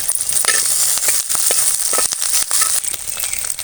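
Chopped onion, garlic and curry leaves frying in a pan, a steady loud sizzle and crackle with scattered stirring scrapes throughout.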